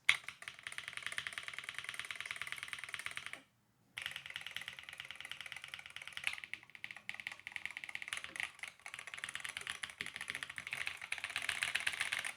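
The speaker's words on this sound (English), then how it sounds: "I'll go ahead and just type out some letters" Letters are typed on a MIKIBY Mad Nano 68 rapid trigger keyboard, giving quick dense clacking keystrokes close up, with a short pause partway through, then bursts of rapid typing.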